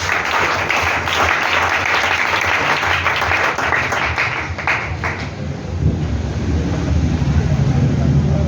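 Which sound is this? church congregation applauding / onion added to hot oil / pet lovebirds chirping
church congregation applauding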